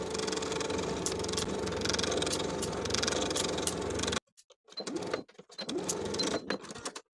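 A sewing machine runs steadily while stitching a shirt collar stand with a 3/8 inch seam allowance, a continuous mid-pitched motor hum that stops abruptly partway through, followed by quieter sparse handling noises.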